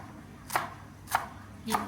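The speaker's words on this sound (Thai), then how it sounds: "อ่ะกะต้นหอม แล้วก็คือมาเนี่ยชอบแบบหั่นน้อยๆ" A knife finely chopping green onions on a board while a Thai chicken salad is made, three crisp, evenly spaced cuts heard close up with no talking.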